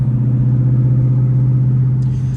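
A Ford Mustang GT's exhaust rumbles at close range, a loud, deep, steady throb with a pulsing idle texture and no talking.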